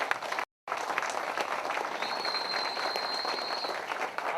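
Audience applause at an audio launch event for a Marathi film, a dense, steady roar of clapping from a large crowd that continues after a brief cut, with a faint whistle-like tone above it.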